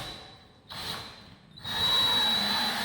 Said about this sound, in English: So now I have to drill the hole for this.